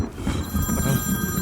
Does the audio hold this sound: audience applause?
no